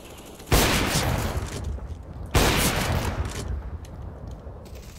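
Two loud sniper shots in the game CS:GO, each a sharp broadband blast with a long echoing tail, about two seconds apart, with no talk over them.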